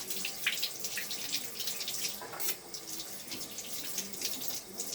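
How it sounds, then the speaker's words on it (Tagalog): Water runs steadily from a tap into a sink while ginger is washed under it, a continuous close splashing hiss with no talking. "hugasan na po yung luya"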